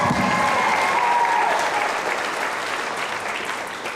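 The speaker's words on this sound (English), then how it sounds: "Let's give Vernon and Gail another big round of applause." Audience applause at an award show, a loud burst of clapping that fades gradually over a few seconds.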